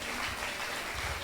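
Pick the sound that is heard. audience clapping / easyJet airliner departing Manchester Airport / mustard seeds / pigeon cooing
audience clapping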